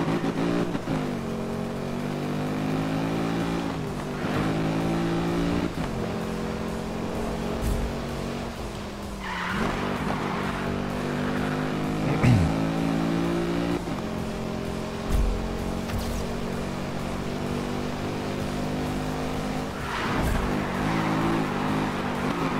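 Police pursuit of a suspect car in Need for Speed Rivals, with steady engine drone, revving and rising whine throughout, punctuated by occasional impacts and a siren-like sweep.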